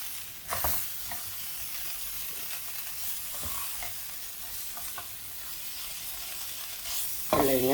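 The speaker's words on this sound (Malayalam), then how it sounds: "ഒരു മീഡിയം ഫ്ലെയിമിൽ ഇട്ട് നന്നായിട്ട് ഇളക്കി നന്നായിട്ട് വഴറ്റിയെടുക്കും" Cauliflower and potato fry in a pan over medium flame while being stirred, a steady sizzle with scraping stir strokes throughout and a louder clatter near the end.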